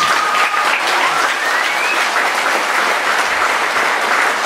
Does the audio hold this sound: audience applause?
yes